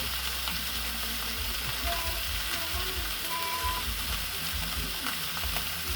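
Steak searing in a frying pan, a steady broadband sizzle and crackle running loud and continuous with faint scraping clicks, no voices.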